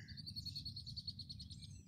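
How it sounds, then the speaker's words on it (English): Birds sing with a quick, repeated high chirping on a cloudy, rainy day out on the water during a kayak nature trip, fairly faint over a low steady rumble. "You can hear the birds."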